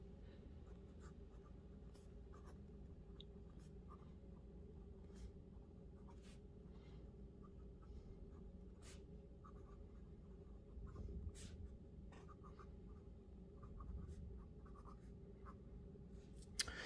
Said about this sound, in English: my thoughts on the nib, it's pretty flawless. It's sort of as I would expect a Pelikan Extra Fine to feel